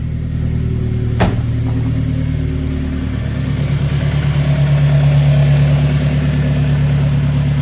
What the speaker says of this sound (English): Much quieter than before from the engine.